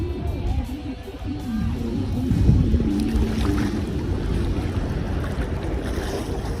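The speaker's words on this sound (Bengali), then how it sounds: "সামনে আবার আরো ঢেউ আসছে।" Sea waves rolling in at a beach on the Odisha coast, a steady broad wash of surf with wind buffeting the microphone, one swell building louder midway.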